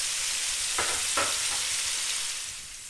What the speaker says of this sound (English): our pork chops have been cooking for about 3-4 minutes